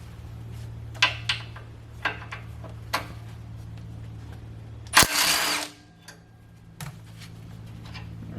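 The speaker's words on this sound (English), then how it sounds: "With just a couple of zings, we'll take care of the two 12mm bolts." A ratchet works loose two 12mm sway bar bushing bolts on a Toyota FJ Cruiser rear suspension: a few sparse light ticks, then one loud, short, buzzing burst, close by.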